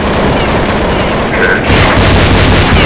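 Booming explosion bursts in Counter-Strike 1.6, run on a virtual Windows XP machine, thud loudly through a dense, noisy game mix with a heavier low rumble in the second half.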